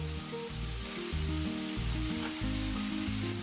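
Tomatoes hit a pan of sautéing pork with a steady, close sizzle and crackle, frying noise continuous throughout with a low rumble beneath.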